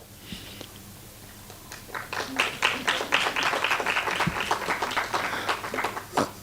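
Audience applause for the VM Group sponsors at a university lecture at UWI Mona, starting faintly and swelling into sustained, dense clapping from a seated crowd that carries on for several seconds.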